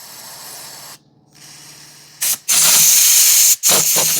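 Aerosol cleaner sprayed into a dirty wheel-speed-sensor electrical connector on a Dodge Ram 2500/3500, heard as close, loud hissing bursts: a short one, then a long sustained spray, a brief pause and another blast.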